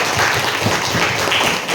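Students at a school outreach event at a junior high clap together in a short burst of applause, a dense, fairly loud patter of many hands with some faint voices mixed in.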